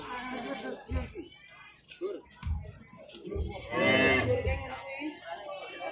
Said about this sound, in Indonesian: Kambingnya super gemuk ya, kambingnya bur.